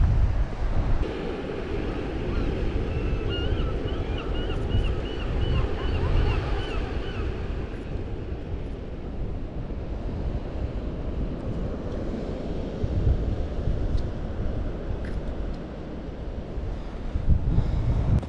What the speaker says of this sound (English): Oh yes, look at these waves.